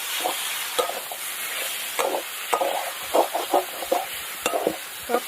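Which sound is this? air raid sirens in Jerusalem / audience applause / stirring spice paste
stirring spice paste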